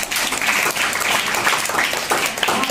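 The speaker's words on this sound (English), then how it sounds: "Clap for English." Classroom audience applauding together at an English communication workshop, a steady burst of many hands clapping close by, filling the whole moment without talk.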